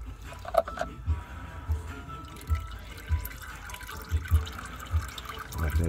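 Transmission fluid drains from the pan of a Dodge Nitro 3.7L, making steady liquid trickling with repeated soft drips and splatters at irregular intervals, close by.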